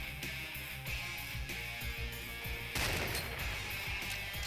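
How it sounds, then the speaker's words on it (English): Gunfire in the video game C&C Renegade, a rapid stream of repeated shots at steady rhythm over constant game background noise, growing denser and louder in the second half, with no talking. "Someone's still firing at me with a..."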